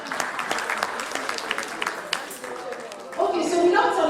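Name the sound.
audience applause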